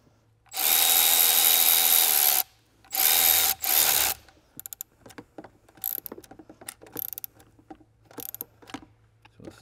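A nut driver, apparently powered, tightens a hose clamp during a CP4 disaster prevention kit install on a Ford 6.7L Power Stroke diesel. Two loud close whirring bursts are followed by scattered small clicks and rattles.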